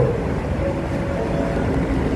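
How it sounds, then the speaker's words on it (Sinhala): A double-decker train at Bratislava main railway station in Slovakia gives a steady, fairly loud low rumble that holds evenly for the whole stretch, with no voices. "යට තට්ටුව උඩ තට්ටුව තට්ටු දෙකේ ට්‍රේන් එක තමයි."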